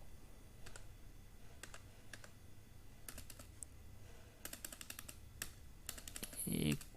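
Computer keyboard clicks in scattered short bursts and quick runs, close and quiet, ending with a firmer key press and a soft shuffle.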